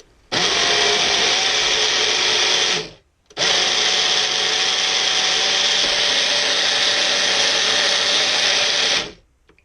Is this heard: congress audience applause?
no